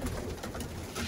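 Breeding homing pigeons in a loft give a steady, soft cooing chorus that runs through the whole stretch at moderate, even loudness, with no talk over it.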